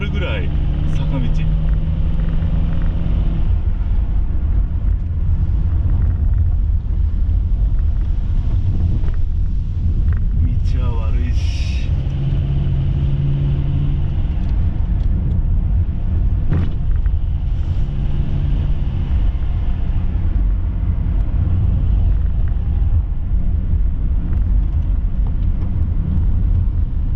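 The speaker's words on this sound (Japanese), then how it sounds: "ほんとこれ車がうなるぐらい坂道" A car engine drones steadily as it labors up a steep hill road on a night drive toward a shrine, loud and continuous throughout under wind rumble, with occasional voices talking in the cabin.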